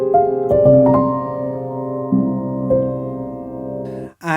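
Gentle notes from the Spitfire Audio Labs Soft Piano play a slow, sparse melody with sustained chords, soft and close, ending with a brief noisy rustle.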